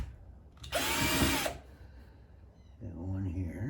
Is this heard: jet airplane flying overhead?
no